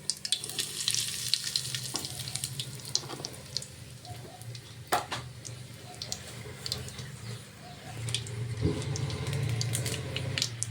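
Mustard seeds, cumin and asafoetida sizzle steadily in hot oil in a pan for a Kathiyawadi-style brinjal and potato dish, with a continuous crackle, scattered sharp pops and some clinks and splashy kitchen noise.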